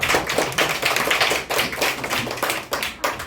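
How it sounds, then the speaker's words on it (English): Hand clapping at a mission gathering among the Kalash, a single person's distinct claps coming close and loud in an uneven rhythm of quick pairs and single strikes. "So I'm going to give you a hand clap."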